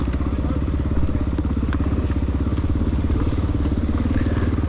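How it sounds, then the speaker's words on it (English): A 1993 Honda XR600R single-cylinder off-road motorcycle idles high and steady, a loud continuous thumping putter running throughout with faint clatter on top, close to the rider while crawling through rough off-road terrain. "I keep the idle kind of high on this bike so I don't kill it easy, and I just kind of idle through this stuff"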